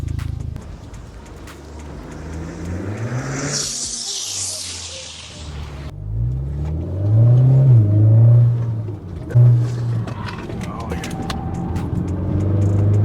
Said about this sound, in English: we're gonna try to do a quick drive-by